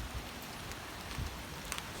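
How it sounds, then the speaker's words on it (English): Big raindrops pelting down steadily on a surface outdoors, a dense continuous patter with scattered louder drops, close and moderately loud with no voices. "The rain is here."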